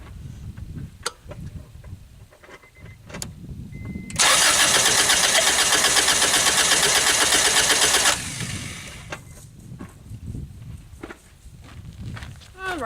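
An Acura Integra engine cranking on the starter for a compression test on cylinder 4, a loud steady whirring drone lasting about four seconds, with footsteps and shop noise before and after.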